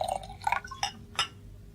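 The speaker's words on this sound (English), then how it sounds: "Is that brandy I see over there? I should like a glass, if I may." Brandy poured into a glass in a radio drama, a few brief liquid splashes and soft glassy clinks in quick succession, close and fairly quiet over a low steady background hum.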